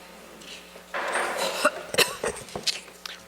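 A person coughs several times in a harsh, irregular burst during a town council budget meeting, close and fairly loud against a quiet room.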